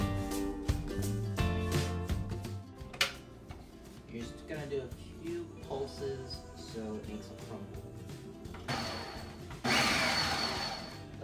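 A food processor blends a crumble with butter and bourbon for a bourbon pecan caramel apple pie, a harsh whirring burst that grows loud near the end, with people talking before it.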